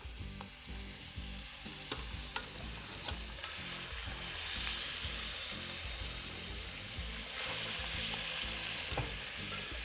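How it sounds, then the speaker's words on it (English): Meat sears and sizzles loudly in a hot pan, a steady crackling hiss with occasional scraping stirs. "And that's that sizzle sound that I said I like so much."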